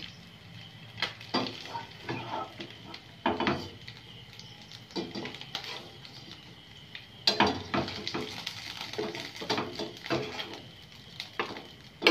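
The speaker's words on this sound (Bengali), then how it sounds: "আমি মাছগুলো হালকা করে ভেজে তুলে নিচ্ছি।" Ilish fish lightly frying in a pan, with a soft, steady sizzle under intermittent scraping and stirring clatters, close and moderately quiet.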